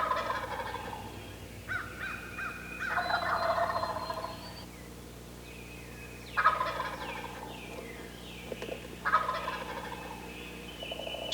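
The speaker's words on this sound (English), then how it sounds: "Listen to these gobblers." Wild turkey gobblers gobble in the woods, several rattling gobbles in separate bursts from moderate distance, with some overlapping, over quiet outdoor ambience.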